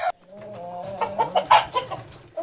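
A rooster at a breed chicken farm in Nellore gives a run of close, loud clucks in uneven bursts, with a brief earlier call, and no talking.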